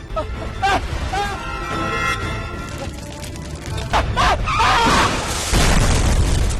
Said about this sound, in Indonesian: Mobilnya meledak sama kebakar.